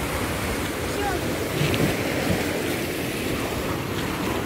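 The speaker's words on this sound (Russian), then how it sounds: "Ну это ж волны." Sea waves on the beach at Sutomore, Montenegro, a continuous rushing wash of surf mixed with wind buffeting the microphone, close and fairly loud with no clear breaks.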